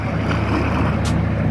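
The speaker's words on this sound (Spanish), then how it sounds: "Olas, olas, porque se ha ido ese barco." Boat wake waves washing and churning steadily after a passing boat, with wind buffeting the microphone throughout and no speech.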